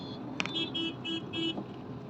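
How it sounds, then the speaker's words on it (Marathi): Road traffic slowed by roadworks, with several short car horn toots sounding in a loose sequence over a steady background hum of vehicles. "इथे थोडी ट्रॅफिक असते रोडचं काम चालू आहे ना म्हणून."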